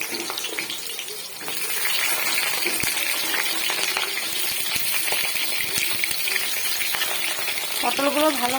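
Cut pointed gourd (potol) sizzles steadily in hot oil in a wok, seasoned with salt and turmeric, giving a continuous loud frying hiss with occasional clinks and pops.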